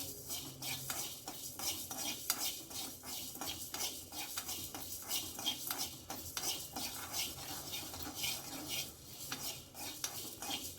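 Coriander seeds roast in a pan for mango pickle, stirred steadily so a spoon scrapes and clinks against the metal in a continuous close rhythm over a faint dry crackle, with no talking.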